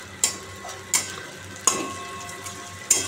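Vegetables with onion, green chilli, tomato, cumin, coriander, salt and turmeric fry in a pan under a low sizzle, punctuated by four sharp, evenly spaced clanks of a spatula stirring the mixture.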